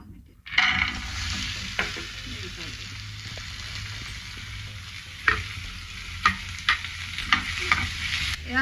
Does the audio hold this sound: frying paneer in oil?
yes